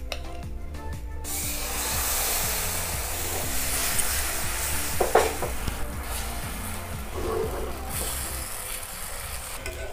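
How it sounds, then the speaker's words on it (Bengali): Bengali gola ruti frying in oil in a pan, a dense steady hiss of sizzling oil with soft pressing and scraping sounds, close and continuous, with no clear voices. "এইভাবে একটু চেপে চেপে ভেজে নিতে হবে"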